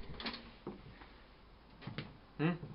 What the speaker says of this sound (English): I'm breaking down the drywall.